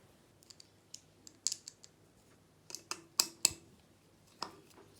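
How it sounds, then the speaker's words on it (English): Closing an extension cord plug and tightening its screw, a sequence of small sharp plastic clicks and ticks, close and quiet, in irregular bursts. "Everything is fine, so I close the plug and tighten the screw"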